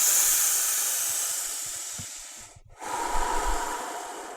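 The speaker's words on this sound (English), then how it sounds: "Let's do 3 more breaths." Slow, steady breaths during a guided breathing exercise: a long airy inhale or exhale fades into a brief pause, then a fuller, closer rush of air follows. The breathing stands alone with no talk.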